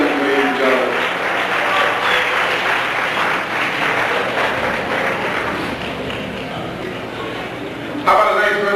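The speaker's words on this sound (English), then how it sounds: "Let's give it up for Siobhan Simmons, ladies and gentlemen." Applause from a pageant audience for a contestant swells continuously and loudly, tapering slightly, with a voice breaking in over it near the end.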